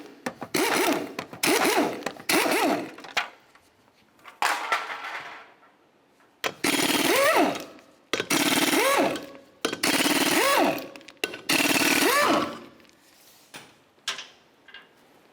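A power impact tool removes lug nuts from a Chevrolet Cobalt wheel, with several loud whirring bursts, each a second or so long, separated by short pauses and clunks, close up with no talk.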